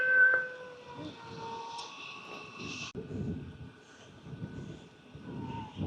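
A cat meows while being loaded at a horse shelter, one clear high meow at the start, then steady mechanical hum with rustling and muffled movement, fairly close.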